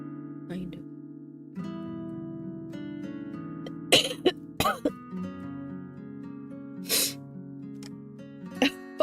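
Several sharp sneezes burst out in quick succession over a steady sustained musical drone, each a short explosive puff of breath.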